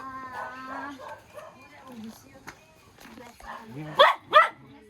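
A dog gives two sharp barks near the end, following a stretch of people talking and calling out, with the voices carrying most of the clip.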